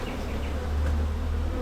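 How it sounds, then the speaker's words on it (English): A large swarm of honeybees hums inside a ten-frame hive, a loud, close, continuous low drone that swells slightly midway, with no voices. "Quick first look, seem to have a ton of bees"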